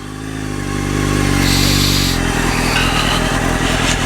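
A motorcycle engine rises loud and close as it pulls away during a rider training session, its revs climbing and then holding in a steady, throaty drone.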